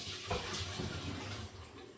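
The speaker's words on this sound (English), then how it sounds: "I'm going to drain this water because this has a lot of liquids" Liquid from a can of corn pours out into a kitchen sink, a steady close splashing trickle lasting about two seconds with no talk.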